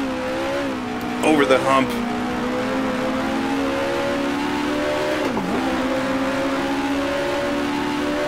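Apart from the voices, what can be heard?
race car engine accelerating in video game Grand Prix Legends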